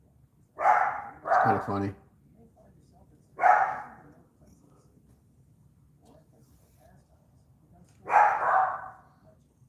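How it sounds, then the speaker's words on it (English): A dog outdoors barks in short bursts nearby, a quick double bark followed by single and double barks spread over several seconds, while someone talks briefly in between. "Dog's barking at a squirrel or a shadow or something."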